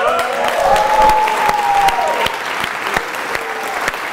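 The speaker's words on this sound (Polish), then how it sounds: "Wielkie brawa." Audience at the opening of a Toastmasters Leadership Institute conference in Warsaw breaking into loud applause with a few crisp claps, a faint cheer rising over it briefly.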